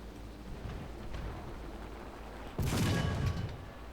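A single heavy cannon boom from a tank in the combat game War Thunder, a sudden loud blast with a short rumbling tail over quiet background noise.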